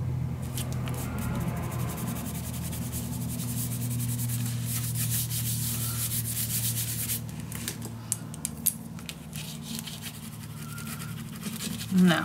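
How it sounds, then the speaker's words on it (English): Paper pieces of a handmade dog-themed mini album being burnished, a steady close rubbing and scraping that continues without a break, with a low hum underneath and a few light taps near the end. "Now burnish everything nice, so the glue is nice to it all."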